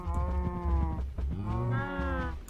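Cows moo in the Minecraft video game, two long, low, drawn-out calls, one after the other, loud and close with nothing else over them.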